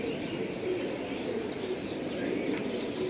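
Black checker racing pigeons of a foreign bloodline, a male and a female, give a low, steady murmur of cooing against a constant background hiss, quiet and close.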